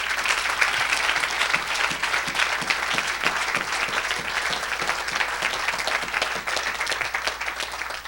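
Audience in a church hall applauds steadily, a dense sustained round of clapping with quick distinct claps audible throughout, loud and continuous for several seconds.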